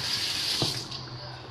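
Running kitchen tap water rinses food during veal parmigiana preparation, a steady close hiss of flowing water with a brief splash midway.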